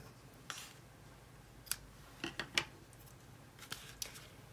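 Scissors trim paper for scrapbooking in a quiet room, giving a handful of faint, crisp snips scattered irregularly over a few seconds, close by with nothing else heard.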